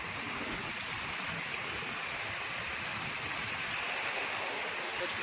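Sea waves wash steadily around a fishing boat setting nets in deep water, a broad continuous rushing hiss with no distinct breaks, fairly soft and unbroken throughout.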